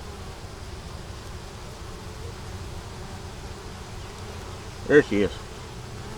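Honeybees buzz steadily around an open hive frame from a colony that has swarmed, a close, continuous hum, with a short spoken remark near the end.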